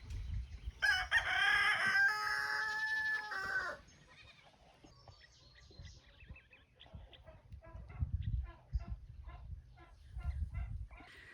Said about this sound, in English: the loudest ones here are the chickens